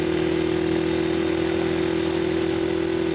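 A mini motorbike's engine whines steadily on a mini-moto track, a loud continuous buzzing drone held at a constant pitch with no other sounds.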